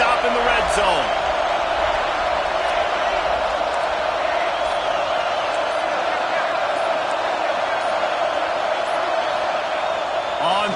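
Stadium crowd roars steadily in a Madden football game on PS5 as fans rally behind the defense trying to get a red-zone stop, a continuous loud wash of cheering throughout.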